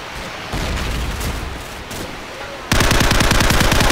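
Rapid automatic gunfire from a Call of Duty multiplayer match, loud and dense, rattling in quick bursts that grow louder and sharper toward the end, with no talk over it.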